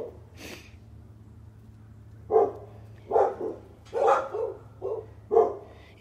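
A blind, deaf dog barks several times in short uneven bursts, some doubled, over a low steady hum, moderately close with no talking.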